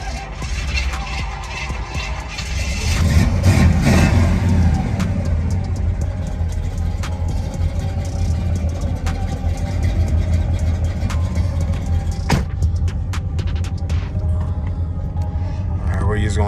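A boxy Chevy car with a 383 stroker engine rumbles loud and close, its deep idle rising in a rev and then holding steady throughout.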